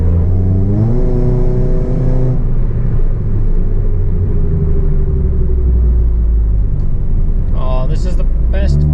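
A modified 4G Mitsubishi Eclipse with a loud exhaust accelerates close by, its engine note droning and climbing through the gears with a steady rumble, and a voice briefly breaks in near the end.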